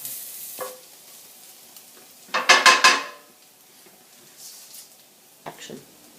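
Garlic sizzling in the pan left from cooking pork, with a burst of stirring and scraping of utensil against the pan in the middle and faint kitchen clatter around it.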